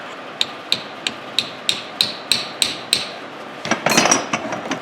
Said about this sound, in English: Because I am getting it with just a chisel and hammer.